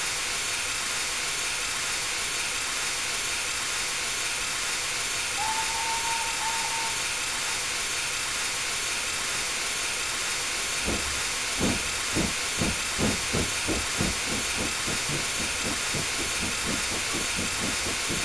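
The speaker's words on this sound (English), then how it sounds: "they are loud, steam engines. They are loud, particularly when the safety goes off." A steam locomotive in Train Simulator 2018 roars with a loud, continuous safety-valve hiss, a brief whistle tone partway through, then rhythmic chuffing beats building under the steady steam.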